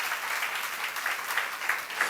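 A church congregation at a Bible lecture seminar breaks into applause, a steady wash of many hands clapping at moderate loudness with a few sharper claps standing out, and no talking over it.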